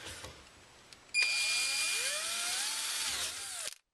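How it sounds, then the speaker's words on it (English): A cordless drill fitted with a hole saw cuts through plastic during a backup camera installation on a 2005 Ford Expedition XLS: a loud, steady high whine with a rising and falling pitch, lasting a few seconds before stopping abruptly. "Here's my cordless drill with the hole saw."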